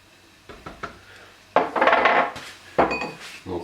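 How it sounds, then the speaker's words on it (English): Tahini scraped out of its container into drained, rinsed chickpeas: a few light taps, then longer scraping strokes of a utensil against the container, close and fairly loud. "Make sure you scrape it all out."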